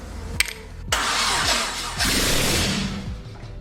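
A loud turbo Honda K-Series car engine revs hard several times in quick succession, rising whooshes with a turbo-like hiss, close and aggressive.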